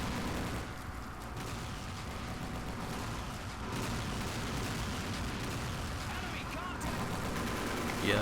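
Sustained gunfire and explosions in the History Channel Battle for the Pacific video game on PS3 form a dense, steady roar of shooting and blasts throughout, with someone talking over it.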